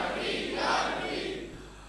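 A crowd chants religious slogans together, a broad roar of many voices that swells and then fades slightly over two seconds, with no single voice standing out.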